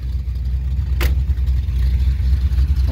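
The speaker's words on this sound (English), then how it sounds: "Headers with glass packs." Loud, close rumble of a 1957 Chevy V8 running through headers with glass pack mufflers, a steady throbbing exhaust note with one short sharp click partway through.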